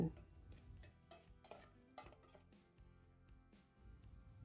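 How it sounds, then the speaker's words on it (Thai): A spoon scrapes and clinks against a pot in irregular strokes as ingredients with fish sauce and salt are stirred, close and fairly quiet. "คนส่วนผสมต่างๆให้เข้ากัน"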